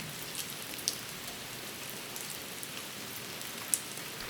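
Steady rain falls onto surfaces outdoors, a dense even hiss with a few louder individual drops landing close by, and no voices.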